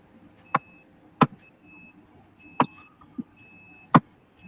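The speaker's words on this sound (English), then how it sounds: "I have no idea what that beeping sound is." Sharp electronic beeps, five short pulses spaced irregularly over a few seconds, each a bright tone with harmonics, heard indoors during an online group chat, with faint background room noise and no talking.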